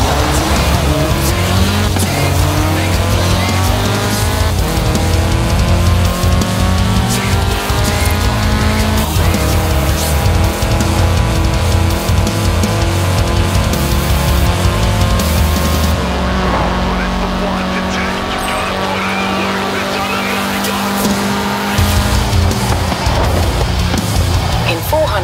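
A Bugatti Divo roars continuously in Forza Horizon 4, its engine loud and sustained as gears shift up and down, with tire squeal and skidding mixed in over a steady game soundtrack.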